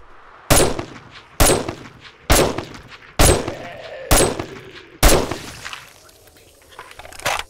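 Five heavy gunshots ring out in 7 Days to Die, evenly spaced about a second apart. Each is loud and close, with a long ringing decay and faint metallic echoes.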